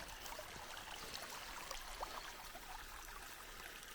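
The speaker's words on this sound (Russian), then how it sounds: "Откуда-то вытекает такой вот ручей." A small stream of water trickles out of a pipe outdoors by a river, a faint, steady babble with no voices.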